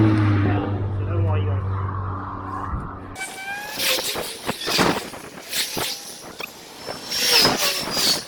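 Cars whoosh past one after another on a road beside a cyclist stopped at a stop sign, each pass rising and fading close by, after an opening stretch of low engine hum.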